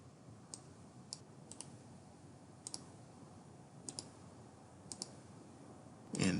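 Sparse, quiet keystrokes on a computer keyboard arrive in short pairs and singles against a soft background hiss, ending with a slightly louder rustle.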